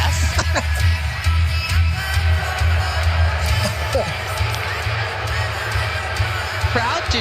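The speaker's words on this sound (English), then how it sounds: "Crowd do not like our tag champs." A wrestling crowd reacts to the tag team champions with a steady, distant roar and murmur of an arena audience, a few faint shouts rising above it, under commentators talking.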